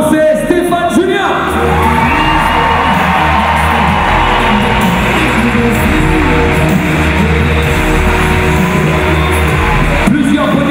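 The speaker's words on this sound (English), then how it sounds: "S'il vous plaît, applaudissements" A large crowd at a climbing World Cup bouldering final roars with cheering, whoops and shouts, loud and continuous throughout.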